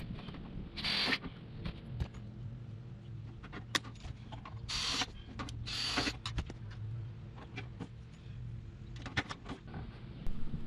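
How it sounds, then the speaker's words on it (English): A pop rivet tool joins gutter downspout sections, giving a few short ratcheting clicks and squeezes at low volume against a quiet background. "As I'm pop riveting everything together, I make sure my downspout lines up with the lines I made on the wall."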